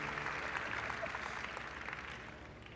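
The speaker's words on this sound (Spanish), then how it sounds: "démosle un aplauso a este varón" Church congregation applauding for a man, a fairly faint, continuous patter of clapping from a room full of people that tapers off near the end.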